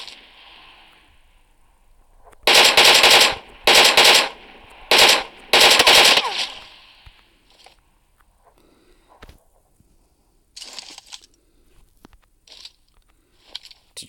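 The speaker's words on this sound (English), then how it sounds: "when you're firing that big gun, you're giving yourself away quite a lot" A big gun fires in PUBG in four loud bursts of automatic gunfire, followed by quieter scattered clicks and shots.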